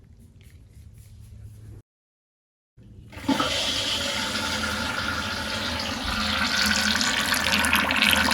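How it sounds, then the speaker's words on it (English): Water gushes into a Mansfield toilet tank after the shutoff valve is reopened, starting abruptly after a brief silence and continuing as a loud, steady rushing fill that grows slightly stronger toward the end. "And the tank now should fill with water."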